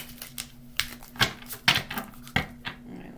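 Tarot cards being shuffled by hand during a reading, a close, crisp run of irregular riffling slaps and flicks over a low steady hum, with no talk.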